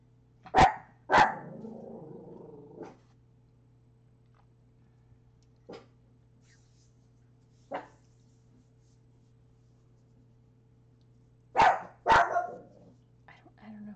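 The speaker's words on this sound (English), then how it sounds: "Don't know who he's barking at." A small pet dog named Sebastian barks in sharp bursts in an indoor room, a pair of yips at the start, a couple of faint isolated barks in the middle, and another loud double bark near the end, over a steady low hum.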